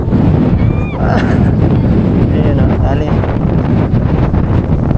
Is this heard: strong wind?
yes